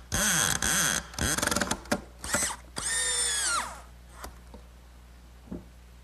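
A power drill drives a screw into the saddle of a handmade wooden rocking horse, two loud whirring bursts followed by several short stuttering pulses and a final rising whine, then fading to quiet with a couple of faint knocks.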